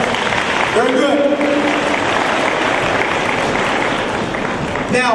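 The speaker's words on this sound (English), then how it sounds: "Give yourselves a round of applause." Students in a school audience giving a round of applause, a broad, steady wash of clapping throughout, fairly loud, with a voice briefly heard over it.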